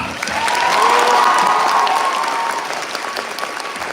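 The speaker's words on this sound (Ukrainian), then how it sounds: "оплески" An audience at a medical faculty student event applauds loudly, a dense, sustained wash of clapping that swells and then slowly fades, with faint cheering mixed in.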